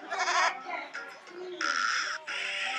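A cartoon goat bleats in the circus adventure game Putt-Putt Joins the Circus, with several loud nasal wavering calls up close over game music.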